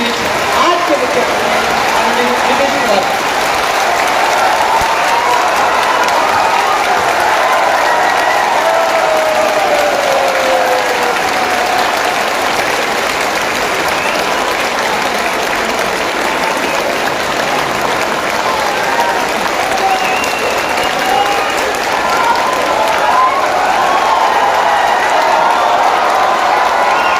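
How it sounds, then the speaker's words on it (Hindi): A large audience claps continuously at a public event for the Samrat Ashoka Jayanti celebration, welcoming the chief guest; dense, steady applause fills the space without a break for the whole stretch. "आप लोग तालियों के साथ बुलाएं"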